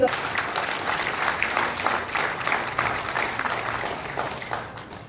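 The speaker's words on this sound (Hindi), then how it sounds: "बिल्कुल तालियां आप सबकी" Sustained applause from an audience at a public ceremony honouring a Jammu West MLA, steady dense clapping filling the whole stretch before trailing off at the end.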